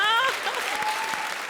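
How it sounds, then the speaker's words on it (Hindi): A comedy show studio audience breaks into applause that follows a voice at the start. The clapping stays fairly loud and steady for the short stretch. "जोरदार तालियां।"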